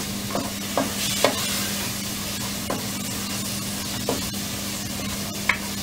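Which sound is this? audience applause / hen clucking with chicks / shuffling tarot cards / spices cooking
spices cooking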